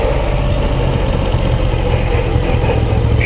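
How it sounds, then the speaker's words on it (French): A Moto Guzzi V9 Roamer motorcycle engine runs on a ride, a loud, steady low throb with a rough pulsing note and no voices. "Je sais pas si vous entendez bien le moteur."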